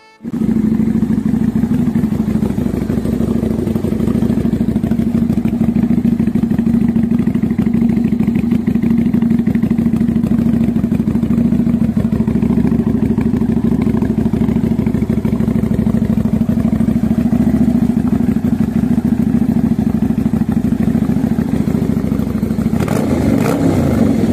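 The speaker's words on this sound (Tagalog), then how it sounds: "meron din talaga siyang magandang sounds sa kanyang engine kasi ito nga yung kanyang sound check guys" A Pecon Motors Victorino 250i motorcycle engine idles steadily and close for a long stretch with a low, even rumble, then briefly revs near the end.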